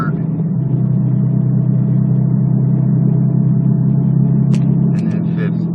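A vehicle engine running steadily in third gear, a loud, even low rumble droning throughout with no clear rise in revs, a few faint higher sounds near the end.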